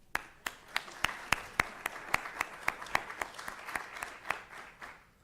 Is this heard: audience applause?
yes